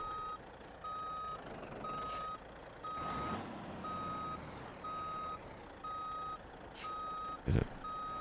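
Regular reversing beeps from a truck in the BeamNG.drive driving game repeat at an even pace, with engine rumble underneath and a couple of short clanks and one sharp knock near the end.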